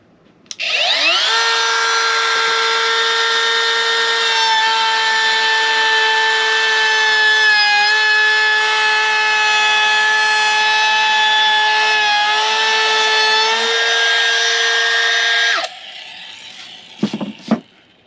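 Craftsman V20 brushless cordless router cutting a chamfer into a wood edge with a bearing-guided bit: steady loud high whine for about fifteen seconds, then spinning down with a few faint knocks after it stops.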